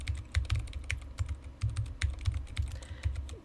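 Someone types on a computer keyboard, and the close, steady keystrokes come in a quick irregular rhythm with no voices.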